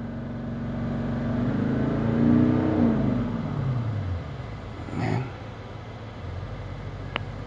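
A 2014 Toyota Land Cruiser engine revs up to 3000 RPM with a smooth rising hum, then settles back down to a quiet idle, fairly soft overall.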